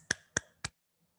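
Three sharp hand claps ring out in quick, even succession, crisp and close, followed by near silence.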